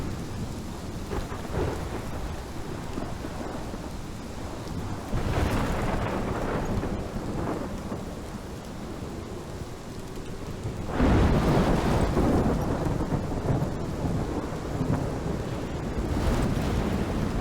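Thunderstorm in the video game Life Is Strange: steady heavy rain under rolling thunder, with loud rumbling bursts swelling twice, no voices.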